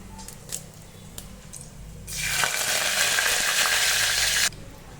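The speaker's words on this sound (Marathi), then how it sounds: "आता जिरे छान तडतडले का कढीपत्ता टाकून घेऊ त्याच्यामध्ये" Cumin seeds crackle quietly in hot oil, then curry leaves drop in and set off a loud, sustained sizzle that cuts off sharply after a couple of seconds.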